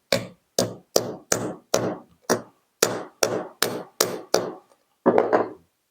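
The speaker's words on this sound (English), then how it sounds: "I'm just going to give it a couple of taps." A hammer strikes a wheel bearing during front wheel bearing work on a 1977 VW Bus camper, giving about a dozen sharp, close metallic taps in an uneven rhythm, with a short burst of quick hits near the end.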